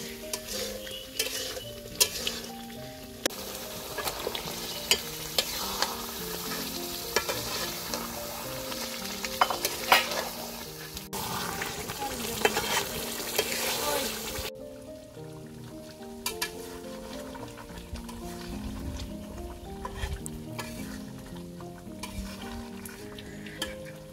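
Masala spices being stir-fried in a pan for homemade chicken biryani, a loud continuous sizzle with repeated scraping stirs and light utensil clicks, no voices over it.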